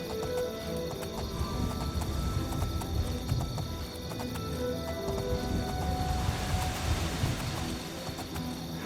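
Horse hooves clip-clop in a steady walking rhythm through a fantasy video game forest near an abandoned fort, close and continuous over faint ambient wilderness sounds.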